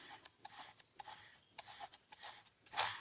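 Paintbrush bristles are rubbed back and forth on sandpaper in short, repeated raspy strokes, close and fairly soft, with brief pauses between passes.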